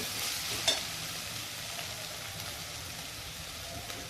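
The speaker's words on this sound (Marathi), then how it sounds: "हे सर्व काही चांगले परतून झालेले आहे." Vegetables and rice ingredients for soybean pulao sauté in a hot pan with a steady low sizzle, broken by a single sharp clink of a utensil early on, with no voices.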